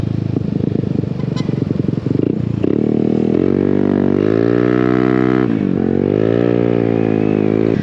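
A 2022 Italjet Dragster scooter fitted with a Malossi CVT kit and an Akrapovic titanium exhaust revs up close and loud. Its engine note climbs, holds, dips and rises again in strong sweeping surges.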